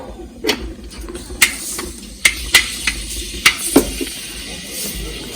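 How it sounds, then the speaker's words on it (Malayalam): Mustard seeds spluttering in hot oil while cooking an Idukki-style tripe curry, a series of sharp irregular pops and crackles over a soft sizzle, close and fairly loud. "ആദ്യം നമ്മൾ കടുക് പൊട്ടിച്ചിട്ടുണ്ട്"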